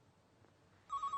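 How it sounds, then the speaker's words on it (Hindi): A phone begins ringing after a quiet moment, a short electronic ring tone pulsing in quick repeated bursts at moderate volume near the end, with no talking over it. "फोन देखो ना।"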